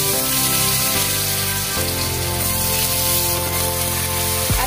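Potatoes fry in a pan with split dried chillies and nigella seeds, giving a steady, close sizzle that runs throughout with a few faint clinks over a low background hum.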